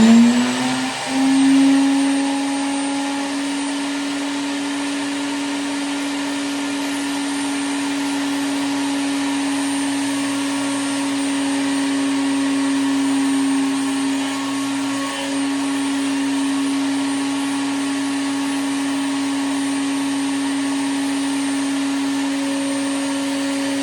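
A router table cutting a truss rod channel into wood, giving a loud, steady high-pitched motor whine with the bit's cutting noise held evenly throughout, close by and without talk.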